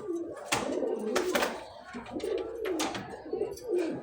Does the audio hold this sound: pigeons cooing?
yes